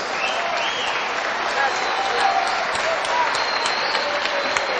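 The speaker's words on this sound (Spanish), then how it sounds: "Un aplauso desde Munro para todo el país." Sustained applause from a boxing crowd honouring two women world champions as they leave the ring, a steady wash of clapping with a voice calling over it throughout.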